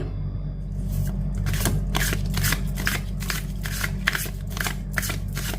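Tarot cards being shuffled by hand, a steady run of crisp riffling and flicking bursts close up, repeating rhythmically throughout with no talk.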